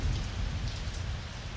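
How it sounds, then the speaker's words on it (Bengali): Light rain falls outside in the evening: a steady, soft hiss of drops with no voices. "বাইরে টিপটিপ করে বৃষ্টি পড়ছে।"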